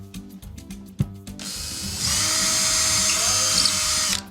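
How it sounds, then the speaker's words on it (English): A power drill boring a hole in a wall for a plastic anchor: a few brief clicks, then a steady, loud, high-pitched whirring grind held for about three seconds close by. "drill a hole in your wall that corresponds to the size of your plastic sleeve"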